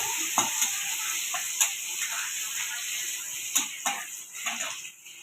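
Garlic sizzles in hot oil with caramelized sugar for an egg curry, a steady bright crackle with a few sharp pops and light clinks of a spoon against the pan, close and without voices.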